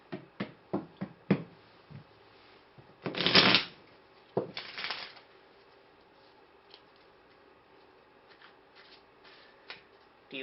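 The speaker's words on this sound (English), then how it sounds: "we'll have to shuffle the deck a little bit." A tarot card deck is shuffled in a quick run of crisp riffles and snaps, with two longer, louder ruffling bursts near the start, then lighter scattered card taps fading toward the end.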